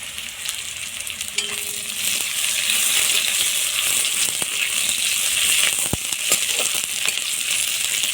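Slit green chillies sizzle and spit in hot oil in a pan for a Bengali katla fish curry, a steady close frying hiss with scattered pops and a sharp metallic clink near the end.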